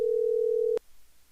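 Steady telephone tone heard while calling a business, a single loud sustained pitch lasting under a second before cutting off to near silence.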